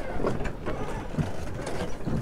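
Wooden dock structure creaking and knocking during waterside fishing, irregular low creaks and clicks at moderate volume across the whole stretch, with no one talking.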